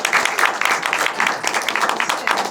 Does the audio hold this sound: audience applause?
yes